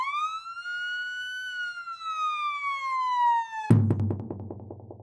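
An ambulance siren wails, gliding steadily downward, then abruptly switches to a rapid pulsing yelp, loud and close.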